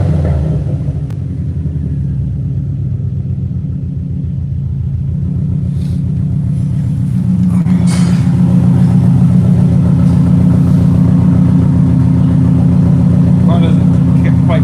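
A Subaru 2-liter engine idles and then revs up, its loud, close rumble rising and holding, with someone talking over it.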